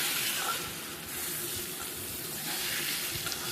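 Spices with salt and turmeric fry in a pan, giving a continuous, close, hissing sizzle that holds steady throughout with no voices.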